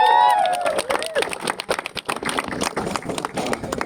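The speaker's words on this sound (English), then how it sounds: "Clap guys, clap." Crowd applause at a Red Ribbon Marathon 2025 prize ceremony, steady rapid clapping from many hands that runs through the whole stretch, with a brief voice and babble over it at the start.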